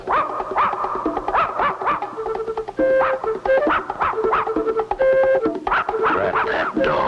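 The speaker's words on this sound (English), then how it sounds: "That mutt has spotted us." A cartoon dog barks and yips repeatedly in short, close, loud bursts, layered over a lively animated music score with bright melodic notes.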